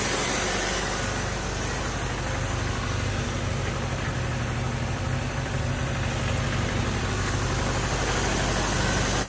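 A car engine idles with its PCV hose deliberately disconnected and leaking, keeping up a loud, steady, close mechanical drone with a fine rhythmic vibration and no pauses or talking.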